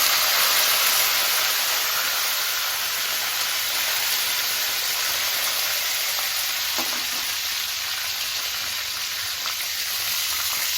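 Curry leaves and mustard seeds sizzling in hot oil for a tempering: a loud, continuous hissing fry with crackling pops, steady and close throughout.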